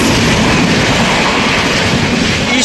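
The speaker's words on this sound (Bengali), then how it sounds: "ওইদিকে একটা বেরিয়ে গেল ইস্ট কোস্ট এক্সপ্রেসটা" East Coast Express train running through a village station, a loud, steady roar of rushing wheels and wind pressing close by from start to finish with no break.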